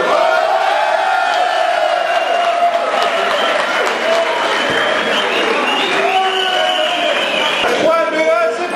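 A large carnival crowd applauds loudly and cheers with whoops and shouts, a dense, continuous roar of clapping and voices throughout.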